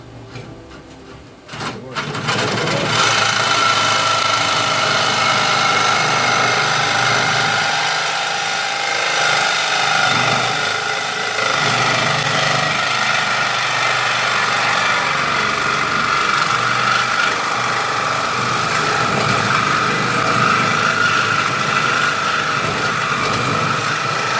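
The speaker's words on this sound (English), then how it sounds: "I'm using a carbide blade now." A power tool fitted with a carbide blade cuts through the muffler of a 2008 Jeep Liberty in a garage, starting up after a brief knock and then grinding loudly and steadily for the rest of the stretch.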